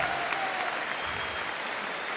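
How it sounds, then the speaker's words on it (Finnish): Steady, dense applause from the audience at a fight event in Finland fills the whole moment, close and continuous without pause. "Thank you for the applause."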